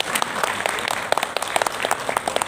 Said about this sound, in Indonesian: Saya pikir karena tepuk tangannya sudah meriah